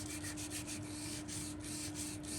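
Folded sandpaper rubs steadily against a wooden pipe spinning on a lathe, producing a continuous abrasive hiss with faint rhythmic pulses over a steady motor hum.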